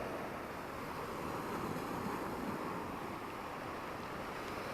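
Surf rolls onto the beach at Seeb in Muscat, Oman, as a steady, faint wash of breaking waves mixed with wind noise, with no distinct individual crashes.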